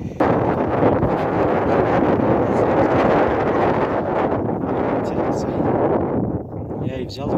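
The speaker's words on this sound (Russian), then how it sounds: "метели закончились, но ветер есть" Strong wind after a snowstorm buffets and roars across the microphone throughout during a hare hunt outdoors, a constant low rumbling gust with little else audible.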